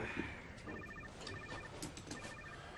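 Short electronic tones repeat in a steady on-off pattern through a phone, over a faint background hum.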